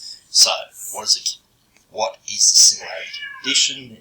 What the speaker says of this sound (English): Just excuse the cat in the background if you can hear it.